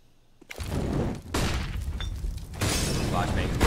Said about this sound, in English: The flashbang goes high, but there's a second one soon to follow, and it's the smoke.